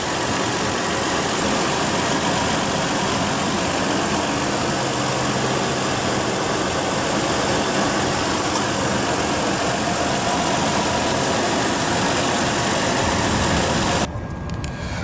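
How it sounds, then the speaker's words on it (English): The 4.0 L V6 of a 2014 Toyota 4Runner idles with a steady, even, close-up hum and rumble, unchanging for the whole stretch and heard alone. "It's a pretty good motor. Very powerful, strong V6."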